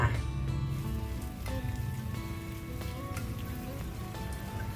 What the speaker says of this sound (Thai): นำกระทะตั้งไฟใส่น้ำมันลงไปนะคะ พอน้ำมันร้อนเราก็จะใส่หมูลงทอดค่ะ